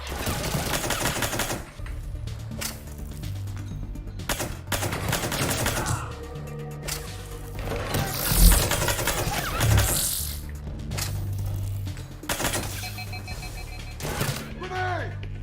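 Mass Effect 3 combat unfolds with rapid bursts of video game gunfire, repeated sharp cracks in irregular volleys layered over music and effects, with a heavier blast near the middle and voices shouting amid the action.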